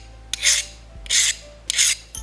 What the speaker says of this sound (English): if I take a file and scrape it